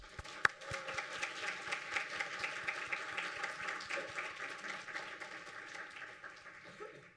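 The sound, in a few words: audience applause for award recipients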